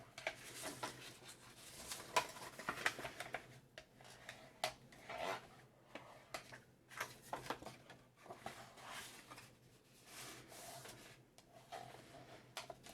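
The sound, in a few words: burnishing score marks on card stock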